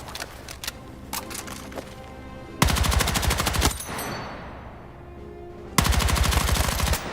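Battlefield 6 gunfire arrives in two loud, rapid automatic bursts with fast, evenly spaced shots, preceded by quieter scattered shots and followed by a fading echoing tail between them.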